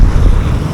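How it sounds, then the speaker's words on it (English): Wind gusts roar against the microphone on the sea shore at night in Montego Bay, a loud, steady rumble with no talk. "The wind is kicking up out here also."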